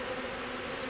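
A honeybee swarm being put into a hive box hums as a dense, steady buzz close by, continuous and even for the full second with no voices.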